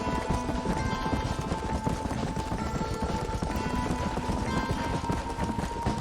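A horse galloping in Red Dead Redemption, its hooves pounding in a fast, continuous rhythm, loud and close, over a busy layer of game sound from start to finish.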